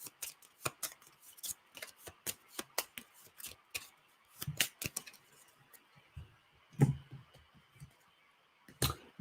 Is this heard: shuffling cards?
yes